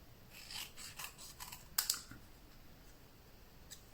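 Scissors snip through paper in a series of short, crisp cuts, close and fairly quiet, with a sharper pair of snips near the middle and sparse sounds afterward.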